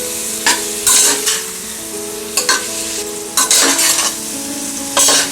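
Close, steady sizzling of mixed vegetables frying in a pan for jowar pulao, with repeated scraping stirs of a spoon every second or so.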